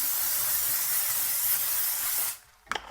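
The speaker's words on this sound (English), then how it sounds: "The first thing we're going to do is cover the pan with nonstick spray." Nonstick cooking spray hisses steadily from an aerosol can onto a skillet for about two seconds, loud and close, then stops and leaves faint kitchen clatter.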